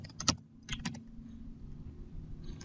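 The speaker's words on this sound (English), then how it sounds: "But if I type in" Computer keyboard typing heard up close in a few quick bursts of clicky keystrokes separated by short pauses, against a quiet room.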